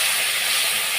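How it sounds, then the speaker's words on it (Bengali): Onion paste dropped into a hot pan alongside fried fish heads and taro for a home curry gives a steady, close, loud sizzle with bright hiss that holds without a break. "এখন পেঁয়াজগুলো দিয়ে নিতেছি"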